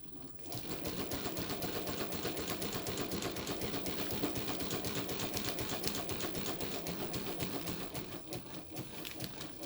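Mannan three-thread chain stitch embroidery machine stitching an outline on printed water-soluble stabilizer, a steady, rapid mechanical clatter running continuously close up with no talking.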